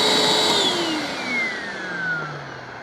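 A used Hoover WindTunnel self-propelled upright vacuum, a curb find with a worn motor, winds down from a loud whirring hum, its pitch sliding steadily lower as the motor coasts to a stop nearby.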